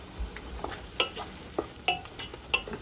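Meat and spices fry in a pot for Afghan kabuli pulao under a steady low sizzle, with a spoon clinking and scraping against the pot in irregular strokes, close by.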